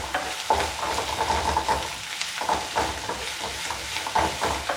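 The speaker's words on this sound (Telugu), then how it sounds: "ఇలా బాగా ఫ్రై చేసుకోవాలి." Gobi Manchurian, battered cauliflower, sizzles and fries in a pan while a utensil stirs and scrapes it, a continuous close crackle broken by repeated stirring clatters.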